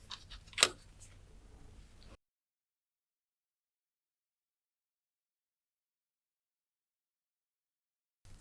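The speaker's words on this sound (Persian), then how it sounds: "من از این قسمت قیچی می زنم." A single sharp snip of scissors cutting through a fish's gill cover, close and crisp, followed by a long stretch of silence.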